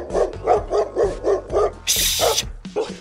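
Cartoon dogs in the Toca Boca World game let out a quick run of about eight loud, close barks in an even rhythm, followed by a brief burst of hiss near the end.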